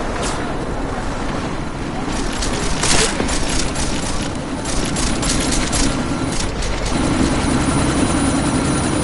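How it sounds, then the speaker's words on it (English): Military helicopter in the Deus Ex: Mankind Divided video game, a steady broadband rotor and engine roar holding throughout amid a sandstorm, with sharp gunfire-like bursts and a voice talking over it. "this sandstorm might have just bought us some time, but you need to disable that chopper."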